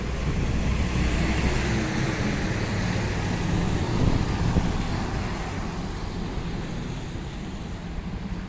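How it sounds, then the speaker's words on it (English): Water surging and washing steadily along a downtown waterfront during an early morning walk, a continuous broadband rush with wind buffeting the microphone, fairly loud and unbroken throughout. "Yeah, the water is picking up a little bit now."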